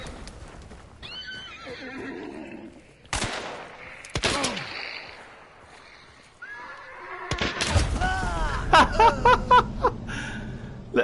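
Gunfire in the online shooter Hunt: Showdown, with sharp shot cracks around 3 and 4 seconds and a louder cluster near the end, mixed with game horse whinnies and hoof clatter.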